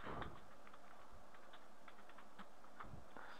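Fingers type an email ID on a computer keyboard, producing a quick run of soft, close key clicks in an irregular rhythm against quiet room noise, with no talking.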